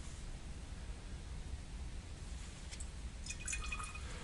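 Water is squirted a little at a time into an eggshell glaze mixture, giving faint, soft liquid spurts and drips over a steady background hiss, quiet and close, with no voices.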